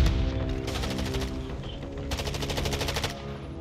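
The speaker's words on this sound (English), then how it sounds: "You are taking effective fire." Loud, dense automatic gunfire in a Call of Duty DMZ firefight, two long sustained bursts of rapid shots with a short lull between them, layered over continuous game ambience.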